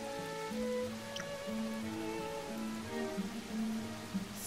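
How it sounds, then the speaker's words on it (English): Soft, steady rain patters in the video game Seasons after Fall, under gentle, sustained musical tones, fairly quiet and continuous throughout. "And make it rain."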